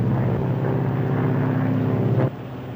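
Propeller airliner with two of its engines feathered, flying on the remaining two: a steady, loud drone with strong low tones that cuts to a quieter level near the end.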